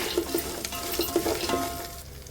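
Poha chivda snack mixture with salt being stirred in a pan, a close, busy run of rapid spoon scrapes and light clinks over a dry frying hiss, with no one talking.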